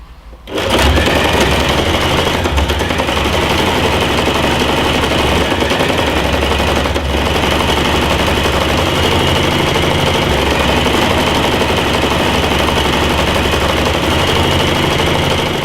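A sewing machine stitching beanbag fabric, a loud, close, continuous rapid mechanical whir after a short start, running steadily with a brief pause near the middle.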